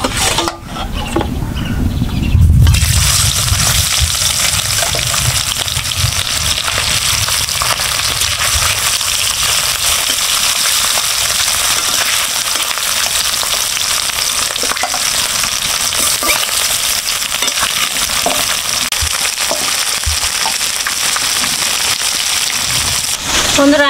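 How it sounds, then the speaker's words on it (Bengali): Tengra fish frying in hot oil in a wok gives a loud, steady, crackling sizzle that runs unbroken for over twenty seconds after a brief, softer start. "ট্যাংরা মাছটা এখন আমি ভেজে নেব।"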